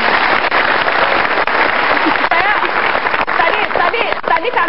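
A studio audience on a television talk show claps for a guest, a dense, continuous wash of applause that sounds loud and close.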